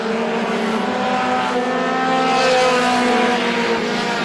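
Roadrunner-class race cars roar down the back straightaway at Star Speedway during a feature race, a steady, loud, continuous engine drone with a slight swell in the middle and no talk.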